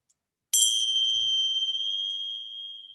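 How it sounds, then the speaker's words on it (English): A single bright bell struck to close a yoga nidra session rings out clearly in near silence, its clean tone sustaining and slowly fading over a few seconds. "Let me ring the bell"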